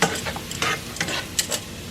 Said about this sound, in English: you're just going to saute these just for a couple minutes